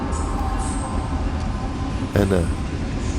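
A freight train with a mixed lashup of locomotives, including an old Union Pacific U-boat and a CEFX genset, rumbles past steadily and loudly with a brief horn-like tone, while someone briefly speaks over it.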